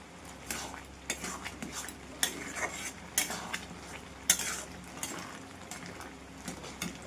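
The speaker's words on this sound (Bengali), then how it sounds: "এবার মটর ডালগুলো দিয়ে দেবো। দিয়ে দিয়েছি। এবার ভালো করে কষে নেবো আবার।" Matar dal is sautéed in a cooked spice paste, with brisk spatula scrapes and clinks against the pan over a low sizzle, close by, irregular but continuous, and no speech.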